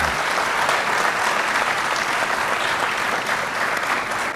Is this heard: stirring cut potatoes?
no